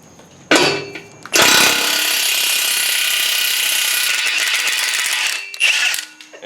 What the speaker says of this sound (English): we're going to take this bang clamp off. That's a 9/16.